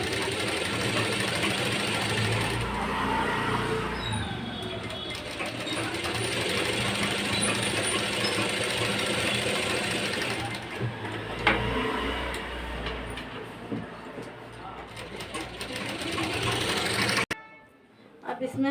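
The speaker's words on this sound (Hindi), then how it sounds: "पलटने के बाद हम इस अस्तर के ऊपर हम सिलाई चला देंगे।" Domestic sewing machine stitching a blouse lining, running in a steady continuous whir for most of the clip before stopping abruptly near the end; a voice talks over it at times.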